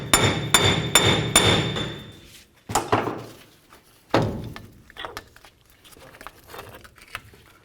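A hammer bangs on the loosened front wheel bearing hub of a Toyota Tundra with its bolts removed, giving a close series of sharp metallic knocks, four quick ones first and then a few spaced heavier blows with ringing decay.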